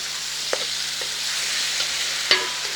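Minced meat keema frying in hot oil with spices gives a steady, bright sizzle, broken by a few sharp spoon or pan clicks, close and with no voices.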